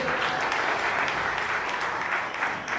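A large audience at a Pune community awards ceremony gives dense, steady applause throughout, loud and close, with no clear voices over it.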